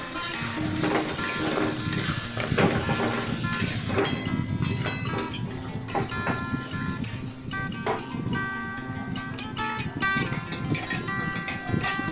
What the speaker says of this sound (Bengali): যে পেস্ট করা হয়েছে সেই পেস্টটাকে তার মধ্যে দিয়ে দিলাম, দিয়ে আলুটাকে ভালোভাবে কষালাম।